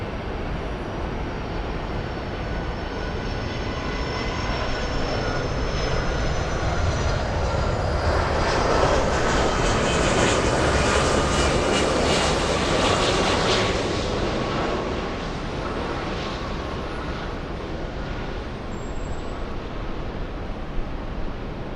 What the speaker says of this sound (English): 757 United Airlines 1527 flying in from Newark.